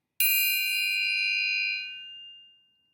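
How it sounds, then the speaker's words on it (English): A single metal triangle strike rings bright and clear, then is damped by the fingers so the shimmering overtones fade out after about two seconds, alone and close. "what I did was I dampened the triangle"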